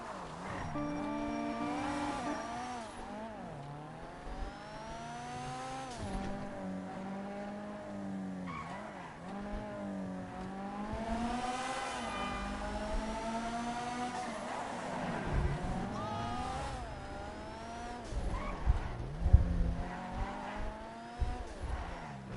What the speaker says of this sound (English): So I'm bringing this vehicle over to the Los Santos Customs.